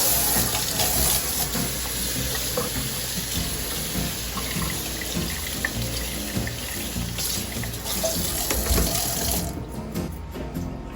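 Tap water runs steadily and loudly as a new charred oak barrel is rinsed, a continuous close splashing rush that cuts off near the end, with no talking.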